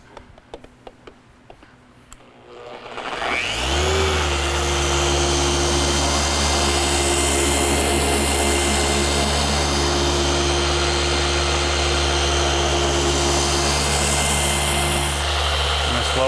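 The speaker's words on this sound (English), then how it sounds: "basically just repolish the whole darn car" A power polisher buffing the carbon fiber roof of a BMW E92 M3 whirs up after a few faint clicks and then runs at a steady, loud, droning hum for the rest of the clip, close by.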